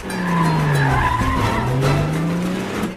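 A car in a Mr. & Mrs. Smith film chase speeds away, tires squealing in a long skid with a sweeping whine, loud and close, engine noise underneath, no voices.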